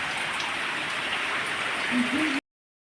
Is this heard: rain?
yes